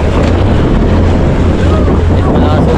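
Strong sea waves around a small boat at sea: a loud, continuous roar of rushing water and wind buffeting the microphone, with no clear talk.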